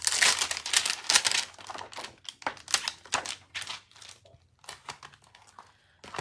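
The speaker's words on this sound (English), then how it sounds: "Let's stamp that leaf that I cut out." Paper craft work stamping a cut-out paper leaf, heard as a busy run of light taps, crinkles and paper rustling at close range, uneven in rhythm with brief pauses.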